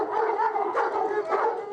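Farm dogs on a snowy, sleety hill station bark and yowl outdoors in a run of overlapping, moderately loud calls with no pauses.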